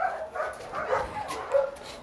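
A mother dog with her puppies at an animal shelter gives soft barks and whimpers, close and continuous over a couple of seconds, with a faint hum of background noise.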